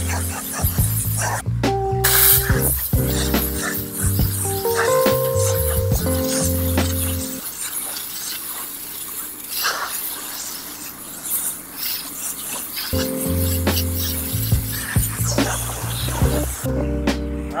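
A pressure washer with a white tip rinses red dirt off house siding, a loud steady spray hiss with a droning engine running underneath that cuts out partway then returns.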